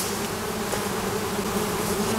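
Local honeybees buzz at a hive on a hot day, a dense, continuous droning hum from many insects close by, steady throughout without voices.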